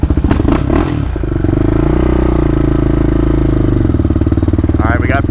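A Yamaha Raptor ATV engine running loud and close after a transmission repair, a steady throbbing idle with clattering as it clunks into first gear, with someone talking briefly at the start.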